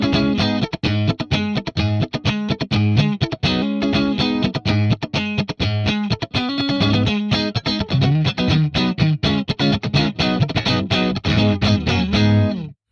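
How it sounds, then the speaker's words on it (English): Electric guitar played through a Fractal amp modeler dialed to a Fender amp tone, strummed chords and riffs ringing continuously and loudly, with no talking. "we've got a good, nice Fender sound here now"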